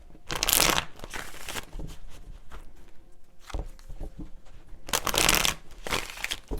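Tarot cards are shuffled by hand in quick riffling bursts, several papery flurries separated by short pauses, close and clear with no talking.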